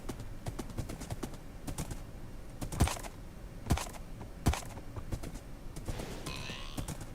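Horse hooves clip-clop in a steady walking rhythm, with a few sharper, louder strikes standing out over soft rustling, fairly close and without speech.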